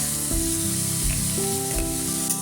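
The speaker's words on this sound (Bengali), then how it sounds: "এবারে আমি আলুটাকে ভালো করে একটু ভেজে নেব।" Potatoes seasoned with salt and turmeric fry in a hot pan with a steady, close sizzle, marked by a few soft bumps of stirring.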